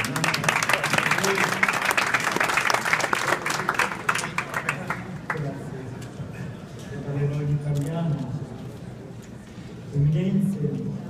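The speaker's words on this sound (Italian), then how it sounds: "Un applauso." Applause from the audience at an inaugural event on Saint Francis held at the United Nations, a loud, dense burst of clapping that fades after about five seconds, followed by someone speaking formally.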